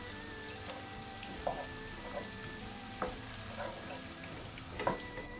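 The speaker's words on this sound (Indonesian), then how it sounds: "Setelah minyak panas, kemudian goreng terlebih dahulu bawang merah." Shallots frying in hot oil in a home kitchen, a steady close sizzle with occasional louder pops and stirring scrapes throughout, no voices.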